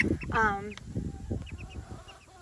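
Chickens, game birds and specialty birds on a farm, cluck and squawk close by, with short rising calls overlapping a person talking in the background.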